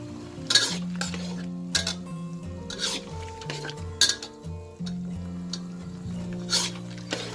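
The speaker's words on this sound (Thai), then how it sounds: "เมื่อหมูสุกนะ เราก็มาใส่ซอสหอยนางรมเลยค่ะ" Pork stir-fries in a pan with oyster sauce, while a spatula scrapes and clanks against the metal in irregular strokes over a low sizzle. A sharp clatter recurs close by, and no one speaks.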